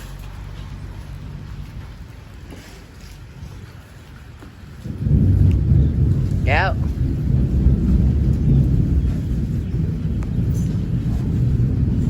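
A heavy thunderstorm with steady rain, where a deep roll of thunder swells in about halfway through and keeps rumbling loudly over the hiss of the downpour.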